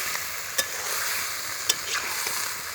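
Soft, even sizzle of broccoli stir-frying with chicken and mushroom in a pan, fairly faint and close, broken by two sharp clinks of a spatula against the pan.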